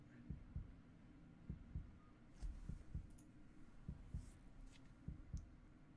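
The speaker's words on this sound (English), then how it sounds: "And enough of the heartbeats." Faint, steady heartbeat from Resident Evil 3, soft paired low thumps repeating at a regular rhythm over a quiet hum.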